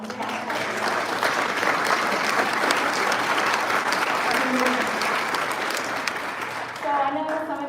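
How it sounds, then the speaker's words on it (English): Sustained applause from a conference audience fills the room, dense and steady clapping throughout with a slight swell near the end and faint murmuring beneath. "Obvious round of applause from the cast."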